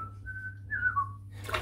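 A person whistles a short wavering tune, a few clear sustained notes rising and dipping, close and alone, before a brief rustle at the end.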